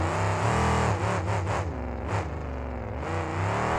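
Haas CNC monster truck driven by Mark Moody at a 2009 KORR Monsters freestyle event in El Paso, Texas, its big engine revving loud and close with rising and falling pitch before the run.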